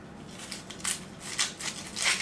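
A dull kitchen knife slices through Vidalia onions in several quick, crisp strokes, each a short crunchy burst, faint and close, spread unevenly over about two seconds.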